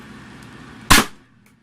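A toy foam dart blaster fires a single cut-down Stefan dart through a brass barrel, producing one short, sharp pop with a quick fade after a quiet pause.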